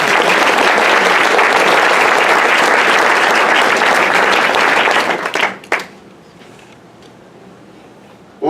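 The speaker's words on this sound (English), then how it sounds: "Let's give a big round of applause to the folks here at Big Creek." Loud, dense applause from an awards-night audience, continuous clapping for about five seconds before it breaks off into a few scattered claps and near silence, with a brief burst returning at the very end.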